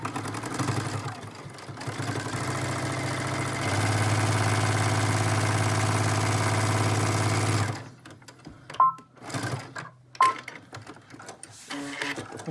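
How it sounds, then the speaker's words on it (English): Sewing machine stitching around a fabric face mask, a steady mechanical whirring hum that speeds up briefly before stopping, followed by scattered clicks and handling noises. "Okay, so we've got it sewn all the way around."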